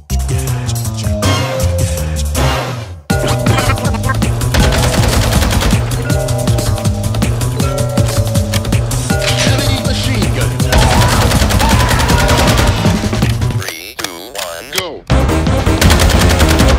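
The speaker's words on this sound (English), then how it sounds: "He just shot somebody through a wall." Sustained automatic fire from a Lachmann-762 rifle in a video game, loud and continuous rapid shots with brief gaps, mixed with game effects and no voices.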